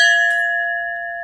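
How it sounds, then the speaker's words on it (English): A single bell at a castle door rings out clearly and close, its bright tone sustaining and slowly fading with no voices present. "I feel a little bit weird about ringing this bell."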